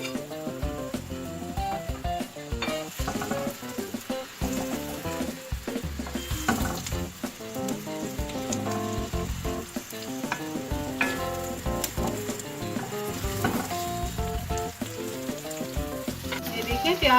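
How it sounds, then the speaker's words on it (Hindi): Onions sizzle steadily in about a cup of hot oil spiced with turmeric, ground coriander and cumin, with intermittent stirring scrapes over the continuous frying hiss, close up and with no talking. "अब इसमें प्याज डाल रही हूँ।"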